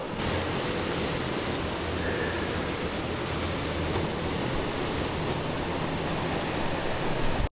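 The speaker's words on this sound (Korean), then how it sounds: "와, 파도." Ocean surf breaking steadily along a rocky Korean east-coast walking trail near Yeongdeok, a loud, continuous wash of waves with wind noise and no talking.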